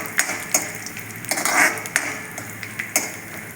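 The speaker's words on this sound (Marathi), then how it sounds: "आपण मीडियम गॅसवरती आपण हे छान असं परतून घेऊयात" Dry fruits sautéed in lightly heated ghee over a medium flame for kheer, with a soft sizzle and several sharp metallic scrapes and clinks of a spoon against the pan, close up and without talking.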